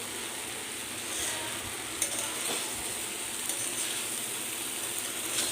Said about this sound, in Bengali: আমি গ্যাসের স্টিমটা একটু বাড়িয়ে দিলাম, যেহেতু মশলাগুলো একটু ভাজা ভাজা হবে